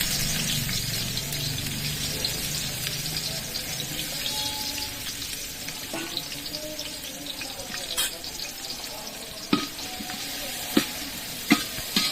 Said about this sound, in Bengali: এবার পেঁয়াজ দিব, পেঁয়াজ কুচি দিয়ে বেরেস্তা ভেজে নেব।